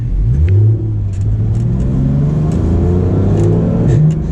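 Porsche GT3 RS with PDK gearbox in Sport mode accelerates hard, its engine note climbing in pitch and dropping sharply at a gear change before rising again; loud, close and continuous with no talk.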